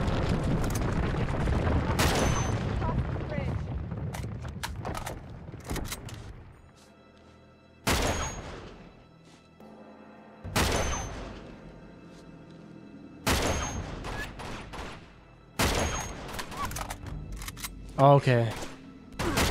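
Rifle shots in the action game Uncharted 2: Among Thieves, a handful of sharp, loud cracks spaced by long pauses, with a brief spoken word between them.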